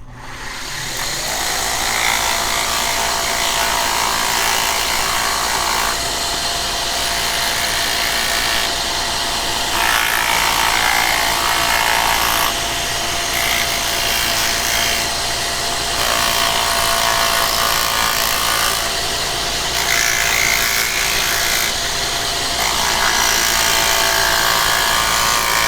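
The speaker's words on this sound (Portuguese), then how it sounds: "eu vou passar então os canudos na lixa 120" Bamboo straws are rubbed against 120-grit sandpaper in the Amazon, making a continuous close, loud gritty scraping whose texture rises and falls in repeated strokes for the whole stretch, with no speech.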